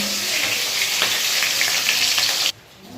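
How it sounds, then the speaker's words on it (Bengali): Hilsa fish head frying in hot oil, a loud steady sizzle with sharp crackles and pops close by, cutting off abruptly near the end. "মুড়োটাকে ভালো করে আগে ভেজে তুলে নিই পটপট করে ফাটছে"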